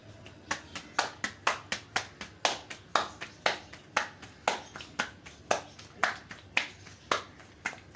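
Roti dough slapped between a mother's palms, about twenty sharp close claps in a steady, quick rhythm with brief pauses between runs, loud and dry with no talking.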